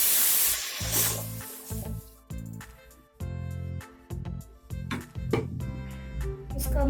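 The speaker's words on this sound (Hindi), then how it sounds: "अब इसमें मैं लस्सी डालूंगी वो जिसमें बेसन मैंने ग्राइंड करके रखा हुआ है।" Lassi mixed with ground gram flour, poured into a hot pan of kadhi with carom seeds, gives a bright, loud sizzling hiss at the start that fades as background music takes over.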